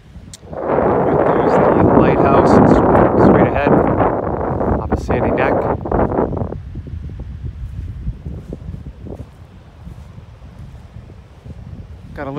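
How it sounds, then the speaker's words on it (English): Strong wind at a Cape Cod beach buffets the microphone with loud, roaring gusts that ease after a few seconds into a lighter, steady breeze with rustling. "A little bit of wind today."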